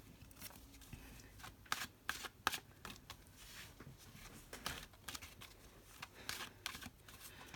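Tarot cards shuffled by hand in quick, crisp riffles and bursts, close and quiet, with short pauses between the flurries.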